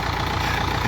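A farm tractor's engine runs with a steady, loud, low diesel rumble, close by and with no talking.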